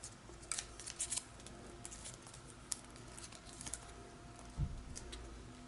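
Origami paper being folded and creased by hand, with scattered soft crinkles and crisp little snaps, faint and close, plus one louder low thump near the end.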